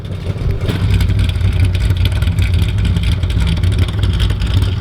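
A Corvette C6 Z06 fitted with an M2W exhaust fires up by remote start on a cold day, its engine catching and then revving in a loud, rumbling, steady roar heard from nearby.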